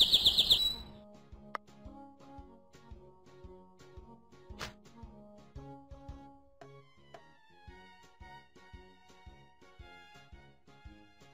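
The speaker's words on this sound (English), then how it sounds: "Birds. Birds." Birds chirp in a bright, steady stream of short repeated tweets, clear and close. A brief electronic jingle plays at the start, and a soft chiming tone is heard in the middle.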